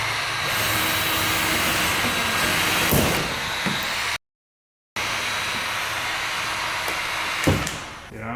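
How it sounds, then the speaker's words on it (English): A heat gun softening a C6 Corvette body panel blows a steady, loud, airy roar close by, with a few brief knocks and handling sounds and a short gap midway. "We've been heat gunning it, trying to help, soften it up"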